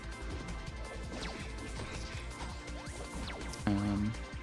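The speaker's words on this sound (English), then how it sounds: "you'll eventually hear a sound of glass breaking" Glass shatters in a crash during a Pseudoregalia boss fight, a single bright breaking burst standing out near the end over busy game music and effects.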